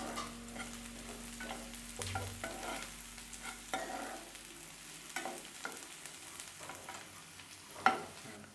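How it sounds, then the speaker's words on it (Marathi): Onions sautéed in a pan until brown for mutton dabba gosht, with intermittent spatula scrapes over a quiet sizzle and one sharp knock near the end. "कांदा छान मऊ होईपर्यंत व्यवस्थित असा परतून घ्यायचा आहे"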